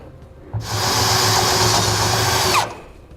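A power drill whirs steadily at high speed for about two seconds, enlarging a hole in steel, starting and stopping abruptly, loud and close.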